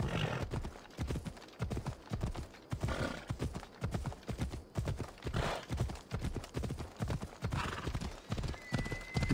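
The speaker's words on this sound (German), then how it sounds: "Die Pferde in Spielen," Horse hooves clip-clop steadily in Assassin's Creed Odyssey, a rapid rhythmic gait of close, loud hoofbeats with a brief whinny, and no talk over it.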